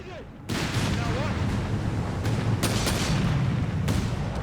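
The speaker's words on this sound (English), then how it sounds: "rocket strike here, severing Tushkan's lines, clearing out support weapons" Rocket strike explosions in the strategy game Company of Heroes 3 land in a dense, booming barrage, loud and sustained with sharp cracks, while a commentator talks over them.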